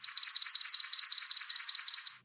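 A recorded swamp sparrow song plays as a steady, rapid trill of bright repeated notes that lasts over two seconds, heard alone, clear and fairly loud.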